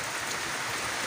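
Rain falls steadily in a rural garden setting as an even, dense hiss with no gaps or individual drops standing out, heard alone for a brief moment.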